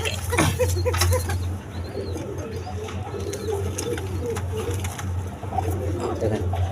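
Pigeons coo in low, repeated throaty phrases close by, a steady soft rhythm with some sharper bird calls and faint background noise mixed in.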